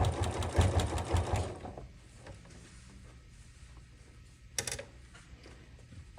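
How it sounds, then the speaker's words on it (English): A sewing machine rattles in a quick, close burst for under two seconds while top stitching binding onto a fabric case, then falls quiet with only faint handling noises and a brief click. "Top stitch it down."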